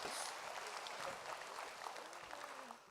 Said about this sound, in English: Let's give that Ben a warm round of applause.